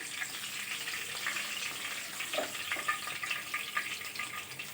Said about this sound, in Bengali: মাছের এক সাইড খুব ভালোভাবে ভাজা হয়ে গিয়েছে এখন মাছটাকে আমি উল্টে দিচ্ছি অপর সাইডটাও সেম একই রকমভাবে ভেজে নিব